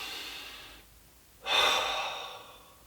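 Slow deep breaths taken during a guided meditation: a soft, faint exhale, a brief pause, then a louder, fuller inhale, alone without talk.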